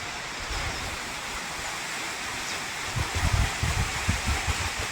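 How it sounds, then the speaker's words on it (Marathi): Light rain falls steadily outdoors on farmland as a broad hiss, with soft low thumps joining partway through. "तर मित्रांनो पाऊस चालू झाला बघा"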